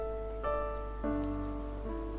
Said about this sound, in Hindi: निकलने ही वाला था कि बूंदाबांदी शुरू हो गई